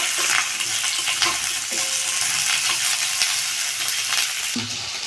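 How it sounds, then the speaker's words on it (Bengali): Potatoes fry in a pan of half-fried onions, a steady close sizzle with brief clinks and stirring scrapes throughout, no talking. "আলুগুলো দিয়ে একটু ভাজবো"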